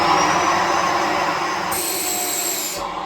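A Bissell Pet Eraser Turbo vacuum cleaner runs with a steady, loud, high motor whine and whooshing airflow, close by; the pitch shifts slightly near the end.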